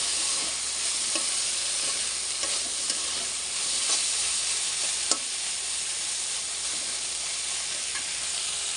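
Food frying in a pan after its water has cooked off, giving a steady, even sizzle at moderate level with occasional faint stirring clicks and no talk.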